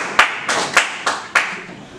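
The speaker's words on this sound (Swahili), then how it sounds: "Makofi kwa mwenyekiti jamani." A handful of separate hand claps ring out in a loose, uneven rhythm for the chairman at a public meeting with government officials in Mbalizi, Mbeya, where bajaji and daladala transport operators are gathered. The claps are close and fairly loud, with no speech.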